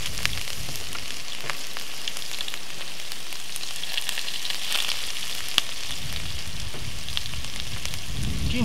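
Red onions, garlic and olive oil sizzle steadily in a pan, a constant bright crackling hiss that holds at an even level throughout, with no voices.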